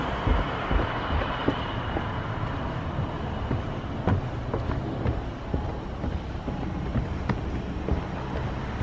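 A train on the Sittingbourne to Sheerness-on-Sea branch line rumbles along steadily near Kemsley, with broadband rail noise and occasional clanks and squeals over a continuous low roar, fairly close.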